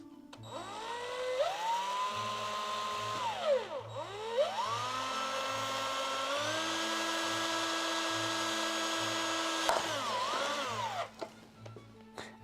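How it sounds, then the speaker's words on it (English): A dull drill bit bores into material in a workshop, the motor whining and repeatedly sweeping up and down in pitch as it bogs and recovers, loud and close throughout. "It's quite amazing how dull this drill bit is."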